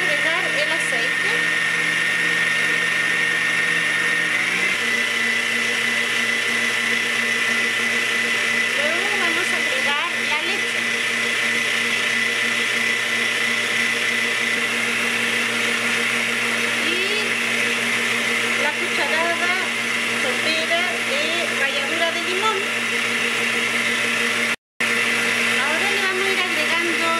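An electric mixer beats lemon cake batter as sugar and oil are added, a continuous steady whine running throughout with a brief cut near the end, while a person talks over it.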